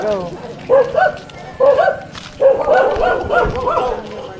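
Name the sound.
dog barking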